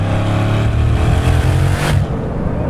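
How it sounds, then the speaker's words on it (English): A hypercar's engine pulls hard under acceleration, a loud, continuous turbocharged roar heard close from inside or beside the car, climbing in intensity before easing after about two seconds. "Wait for a second for the boost to build, but then it comes on, and it comes on strong."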